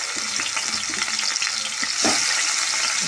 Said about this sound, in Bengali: দিয়ে একটু নাড়াচাড়া দিয়ে লাল লাল করে ভেজে নেব।